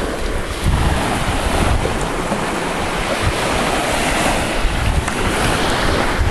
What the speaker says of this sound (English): This is one of the many beaches here.